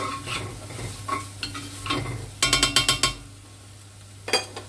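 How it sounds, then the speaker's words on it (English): Chopped garlic is stirred in a pan for chilli con carne, with a gentle sizzle, scraping strokes and a quick burst of sharp utensil taps against the pan, all close up. "We're going to go in with our chopped garlic. We're going to give that a little stir around."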